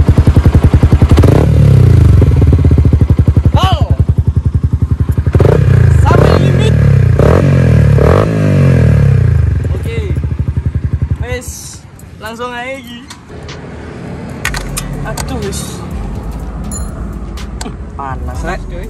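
An R15 motorcycle engine with its stock exhaust revs repeatedly in loud rising bursts up close, then settles to a rough idle while people talk nearby.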